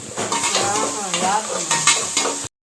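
Ginger garlic paste sautéing in a pan, a steady close sizzle with stirring scrapes running throughout and cutting off abruptly at the end.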